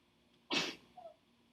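A single sharp sneeze in a trigonometry classroom, loud and close, followed by a faint short voiced sound, with quiet room hum around it.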